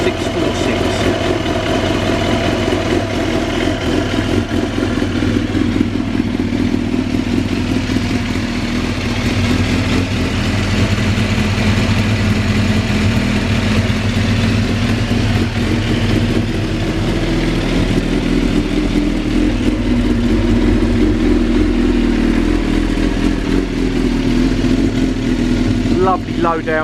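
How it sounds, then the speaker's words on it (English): A motorcycle with an Akrapovic exhaust idles with a deep, steady exhaust rumble, low and throbbing, close by, continuing for the whole stretch with a slight rise in revs near the end. "Lovely low down growl from that Akrapovic exhaust."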